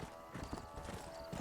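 Horses trot in the Red Dead Redemption video game, a quick, even clip-clop of hooves on hard ground, close and continuous over a soft background bed.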